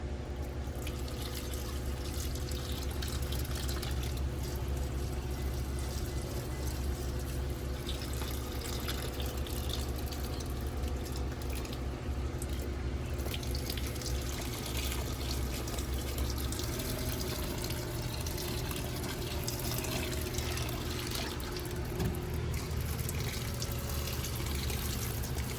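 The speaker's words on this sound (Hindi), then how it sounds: "वहाँ मैं पानी दे देती हूँ थोड़ा थोड़ा" Water poured a little at a time onto potted plants in a small patio garden, a steady soft trickle running throughout over low background hum, no talking.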